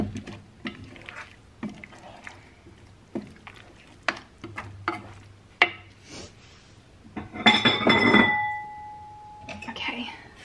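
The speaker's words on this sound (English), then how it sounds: "Gonna add in a handful of my pistachios so I can blend them through. Stir them through rather." A spoon stirs pistachios through a dish in a home kitchen, giving scattered scraping clinks and taps against the bowl, interrupted by a brief burst of clattering, with a person talking between the sounds.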